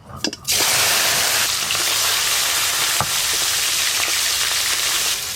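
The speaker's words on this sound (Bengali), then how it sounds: "মাছগুলো খুব ভালো করে ভেজে নেব।" Fresh pond fish frying hard in hot oil, a loud, steady sizzle that runs close and continuous after a brief clatter at the start.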